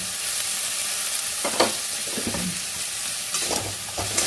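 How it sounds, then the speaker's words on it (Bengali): Capsicum and onion fry with softened tomatoes in a pan for Bengali-style chicken Manchurian, a steady close sizzle broken by several scraping stirs of a spatula, with no one talking. "এই অবস্থা হলে ক্যাপসিকাম আর পেঁয়াজগুলো ঢেলে দেবো"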